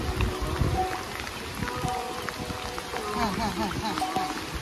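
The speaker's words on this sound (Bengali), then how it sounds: "যে হারে বৃষ্টি নামছে" Heavy monsoon downpour drums steadily over open fields in rural Bangladesh, a dense continuous patter with scattered drops and splashes close by, while people talk underneath.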